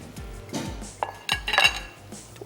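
A metal spoon stirs and scrapes fried potatoes and whole red chillies in a cooking pot for biryani, with repeated clanks and knocks against the pot, close and fairly loud.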